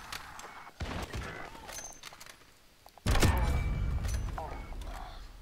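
Video game sniper rifle fire: sharp, loud gunshot bursts, one near the start and a heavier blast around the three-second mark with lingering rumble, amid game noise and some chatter.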